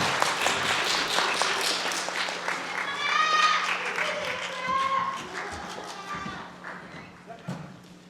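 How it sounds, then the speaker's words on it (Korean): Audience applause at a community practice-sharing event, dense steady clapping from a crowd filling the space, with voices and other sounds mixed in before it fades toward the end. "큰 박수로 김수지 선생님을 초대합니다."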